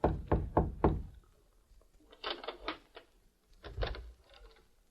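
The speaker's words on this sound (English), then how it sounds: "Nick rapped softly on the door of a hotel room in Mayville" Soft knocks on a hotel room door in a radio drama, two quick clusters of three or four raps each, then a pause before two more gentle groups of taps, close and clear with no talking.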